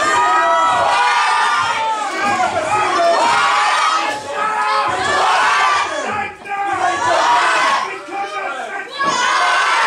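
Wrestling event crowd roaring with sustained cheering and shouting, many voices yelling and chanting together at a loud, dense level throughout, with brief dips before surging again.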